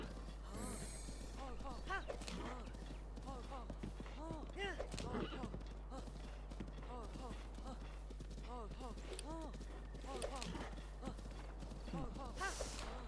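Horse hooves clip-clop at a steady trot while riding in Zelda: Breath of the Wild, with an occasional whinny; someone talks over the game sound throughout.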